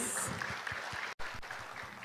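An audience at a school quiz competition claps together, producing a moderately loud, dense patter of applause with a brief dropout in the middle.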